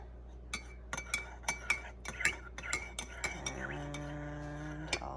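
A spoon clinks repeatedly against the sides of a cup of tea as loose tea is mixed in, a steady series of sharp close clinks that slow and give way to a faint ringing tone at the end.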